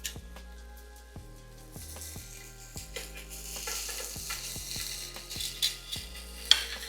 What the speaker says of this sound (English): I'm going to place my bacon wrapped mozzarella right onto the pan